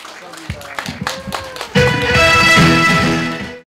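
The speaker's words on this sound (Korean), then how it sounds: "모두 박수를 환영해 주시고 빵빠레도 올려주세요." Applause at a Buddhist organization's inauguration ceremony for its new president, scattered claps at first, then a fuller burst of clapping mixed with a loud fanfare that cuts off abruptly.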